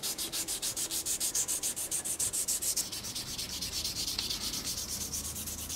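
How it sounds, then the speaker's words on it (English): Handle scale with a leather spacer being hand-sanded with 1500 grit sandpaper, a fast regular back-and-forth scratching rhythm, close and fairly loud, settling into a smoother steady rub in the second half. "I sanded the top off all these file marks with some 1500 grit sandpaper"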